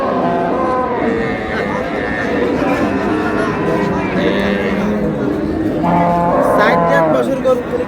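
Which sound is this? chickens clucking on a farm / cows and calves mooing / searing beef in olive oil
cows and calves mooing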